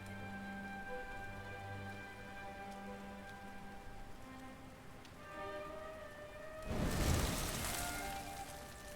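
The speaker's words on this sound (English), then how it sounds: "Looks like the rain's dying down." Rain from the video game Dragon Quest XI, a steady hiss of falling drops under tonal game music, swelling into a louder wash of rain near the end.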